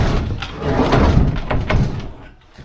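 An old storm door on a 150-year-old abandoned farmhouse is opened, giving a few close creaks and scrapes with soft knocks. The noise fades to near quiet at the end.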